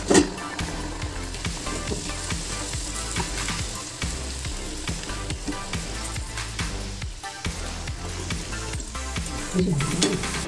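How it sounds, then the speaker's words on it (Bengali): Green spinach kachoris frying in hot rice bran oil, a loud, continuous bubbling sizzle with layered crackles, heard close and steady throughout, with music playing underneath. "এবার আমরা এই লুচিগুলোকে ভাজবো।"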